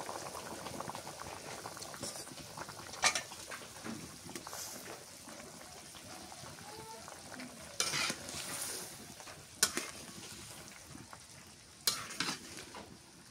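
Small river fish simmer in a banana stem curry. A soft, continuous bubbling and sizzling runs throughout, with a few sharp utensil knocks from stirring. It is quiet and close, with no voices.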